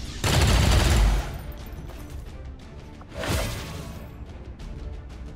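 A heavy volley of gunfire as XCOM 2 soldiers open up on an Archon: a loud, dense opening burst, then a second, shorter crack of shots a couple of seconds later, fading into a quiet tail.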